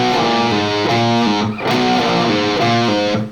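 Distorted electric guitar playing a power chord riff from Saxon's Carpe Diem, loud and close, with chugging chords, a brief gap midway, then the riff repeating.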